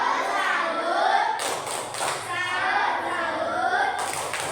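Children in a classroom do the 'tepuk salut' salute clapping chant, with claps and thumps under continuous group chanting and voices, at a moderate, fairly close level.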